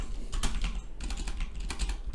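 Someone types on a computer keyboard while filling in a form field, producing quick, close, irregular key clicks in short bursts with brief pauses between them.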